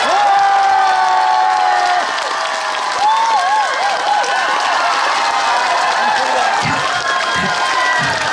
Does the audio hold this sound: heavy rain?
no